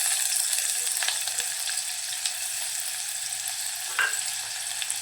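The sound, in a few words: onion frying in oil with crushed garlic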